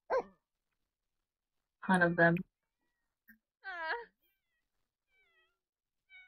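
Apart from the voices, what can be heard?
dogs barking and cats meowing in the video game The Sims 4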